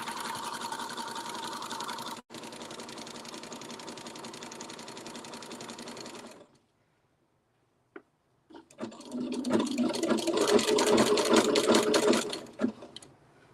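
A sewing machine stitches quilt pieces in a fast steady run, stops briefly for a near-silent pause, then restarts louder with a short back stitch, and no voices are heard.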